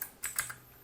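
Typing on a computer keyboard while entering server commands: a few quick, light key clicks in a short burst, close and fairly quiet, with no voices.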